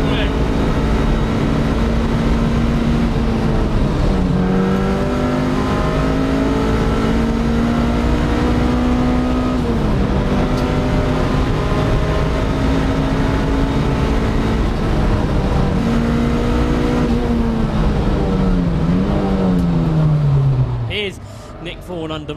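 BMW E36 M3 race cars in a 750MC Roadsports race at Snetterton, engines droning loud and steady with rising and falling pitch as they pass, under continuous commentary.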